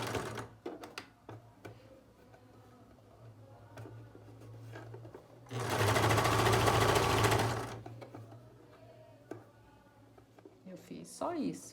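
A sewing machine stitches a hem on viscose fabric for a beach cover-up, a dense rapid whirr for about two seconds amid quieter clicks and handling, with someone talking softly around it.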